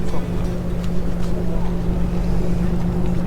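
Large passenger ship departing port, heard as a loud steady low engine drone with wind noise and people talking nearby throughout.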